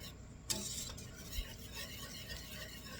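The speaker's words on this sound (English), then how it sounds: "Get that all nice and whisked and incorporated in there." Peach jam mixture whisked in a pot: a close, steady swishing and scraping of the whisk with a sharp clack near the start, fairly quiet with no talk.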